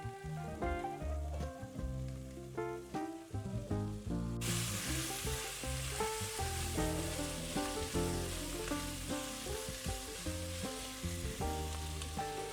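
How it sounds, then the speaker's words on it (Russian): Shallots fry in hot rabbit drippings, sizzling steadily under loud music that carries on throughout, the frying hiss broadening and growing denser after the first few seconds. "На выпеке от кролика обжариваем шалот."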